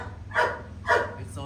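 A pet dog barks twice in a home, two short moderately loud barks about half a second apart, while a child plays with it.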